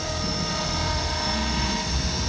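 A T-Rex 500 RC helicopter flies at an RC aircraft meet, its rotor and motor making a loud, steady high-pitched whine that holds unbroken throughout, with no voices over it.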